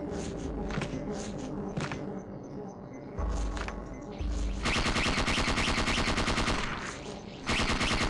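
Rapid submachine gun fire in Parasite Eve 2, with dense repeating bursts from about the midpoint onward, loud and close, following earlier thumps and game sounds, with a faint voice at times.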